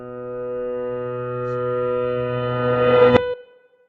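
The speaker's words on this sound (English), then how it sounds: "it's just a reverse piano of the first note" A sustained reversed piano note swells steadily louder, building to a sharp cutoff near the end, then brief silence.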